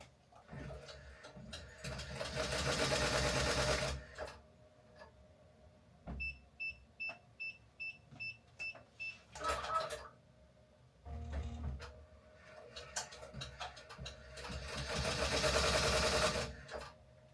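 An embroidery machine stitches in short bursts that keep halting, with rapid rhythmic clatter between pauses, a run of evenly spaced chirping stitches in the middle, and quiet stretches where it stops; fairly faint and close.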